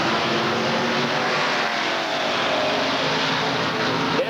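Stock cars racing at Redwood Acres Raceway, a 1972 Monte Carlo and a Ford Torino among them, give a steady, loud engine roar with continuous droning and revving and no clear gaps.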